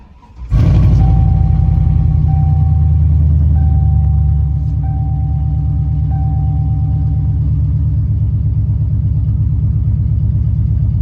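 A Chevrolet Silverado SS truck engine cranks and catches about half a second in, then settles into a steady, loud, close idle rumble that continues with no talking.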